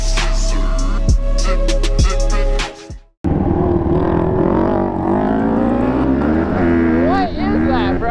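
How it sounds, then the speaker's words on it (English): A 700cc sport-bike motor swapped into a quad roars loudly at close range, a steady high drone that cuts out briefly, then restarts and revs up and down. "A 700cc motor. I don't even know what type of motor's in it"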